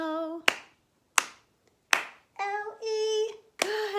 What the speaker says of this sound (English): So now we'll do 3 claps.